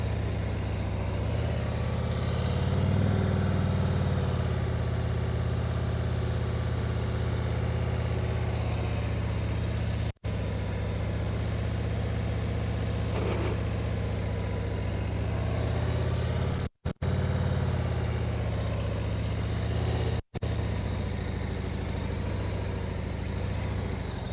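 A motorcycle engine runs at steady throttle during slow-speed riding practice, producing a continuous low, even hum that stays close. A few very brief dropouts interrupt it, and no one speaks.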